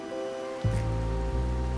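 Steady rain falls in a video game scene, a dense even hiss that swells fuller partway through and holds, with a faint tonal music bed underneath and no voices.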